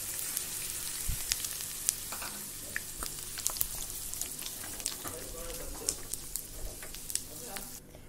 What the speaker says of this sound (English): I've added the mixture into the oil, into the hot oil. And I'll be stirring and cooking it for a while.